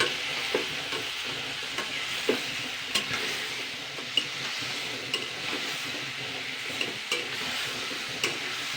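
Chicken pieces seasoned with turmeric and salt frying in a pan the way fish is fried, a steady moderate sizzle broken by regular light spatula taps and scrapes against the pan, no talking.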